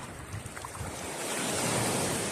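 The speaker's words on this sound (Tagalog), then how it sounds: "Malakas ang alon." Strong surf crashes on a sandy beach, a loud rushing wash of breaking waves building toward the end, with wind buffeting the microphone.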